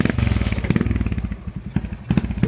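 A motorcycle engine runs close by, loud and rhythmic with a fast pulsing idle that dips briefly midway and then revs back up.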